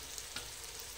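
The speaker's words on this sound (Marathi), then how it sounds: "4 मोठे टोमॅटो घालून टोमॅटो चांगले मऊ होईपर्यंत हे भाजून घेऊ" Large tomatoes roast in a pan for a vegetarian gola biryani, giving a faint, steady sizzle with one or two soft stirring clicks and no talk.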